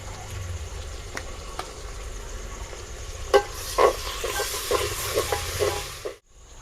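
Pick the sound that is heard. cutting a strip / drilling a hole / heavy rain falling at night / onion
onion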